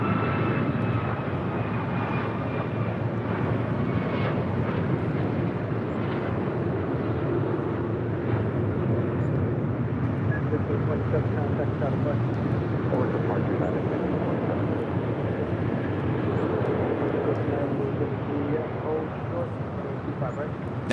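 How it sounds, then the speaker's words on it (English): A United Airlines Boeing 737 MAX 9 jet heading to Cleveland rumbles steadily at a moderate distance, a continuous engine roar with faint whine, accompanied by a voice talking throughout. "That was the United Airlines flight 1527 heading to Cleveland, Ohio. That 737 MAX 9."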